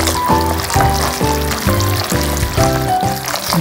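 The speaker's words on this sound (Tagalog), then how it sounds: "unti-unti nang kumukulo" Coconut milk bubbles and sizzles in oil as it reduces into latik for biko, a steady close crackle with repeated low bubbling pops throughout.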